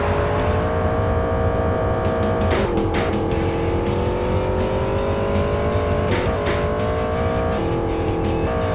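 Race cars in a Nintendo 64 racing game roar loudly and steadily from the start, engines droning at high revs with a few brief surges and shifts, no voices over them.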